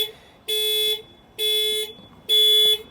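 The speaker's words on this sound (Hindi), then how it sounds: "इधर से मैं ये दबाऊंगा तो हॉर्न एंड लाइट्स वगैरह बजनी शुरू हो जाएंगी" A 2021 Hyundai Verna's horn, triggered remotely via Blue Link app, honks three times in even, sustained blasts about a second apart, bright and buzzy against a quiet background.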